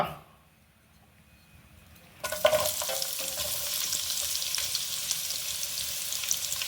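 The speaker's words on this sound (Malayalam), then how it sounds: "ഒരു പാൻ അടുപ്പത്ത് വെച്ച് ചൂടാക്കി അതിലേക്ക് ആവശ്യമുള്ള വെളിച്ചെണ്ണ ഒഴിച്ചു കൊടുക്കുക. അതിലേക്ക് സവാള," Near-silence is broken suddenly as onion drops into hot coconut oil in a pan, starting a loud, sustained crackling sizzle with stirring scrapes that keeps on to the end.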